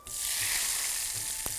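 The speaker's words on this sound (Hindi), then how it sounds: "ये गया कड़ी पत्ता" Curry leaves hit hot oil with a sudden loud, steady sizzle and crackle that continues without pause, no voices over it.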